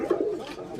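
A Bombai pigeon, one of a pair with eggs at a farm, gives a close, low, throaty coo that swells twice early and then trails off into softer murmuring.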